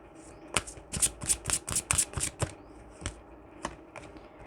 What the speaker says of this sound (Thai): ทีนี้เรามาดูไพ่โรแมนต์แองเจิลกันบ้างนะคะไพ่อยากจะบอกอะไร ให้กับเพื่อน ๆขอไพ่โรแมนต์แองเจิลหน่อยค่ะ